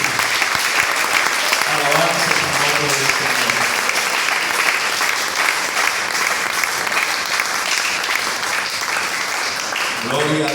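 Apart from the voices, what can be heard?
church congregation applause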